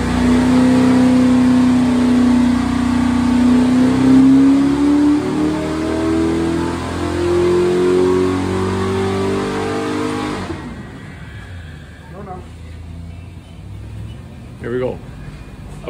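A 602 crate race engine on a dyno drones loudly and steadily with rising harmonic pitch for about ten seconds, then cuts to quieter background with faint mechanical sounds and brief clunks.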